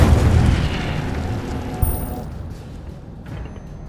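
An Incendio fire spell is cast in Hogwarts Legacy, bursting with a loud whooshing boom that fades out over a few seconds, followed by a brief sharp pop and quieter combat noise.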